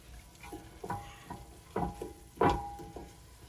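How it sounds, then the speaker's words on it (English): Onions, peppers and bacon sauté in a pan, with a low steady sizzle broken by a few stirring scrapes and clatters, close and fairly quiet. "Sauteing onions, peppers, bacon."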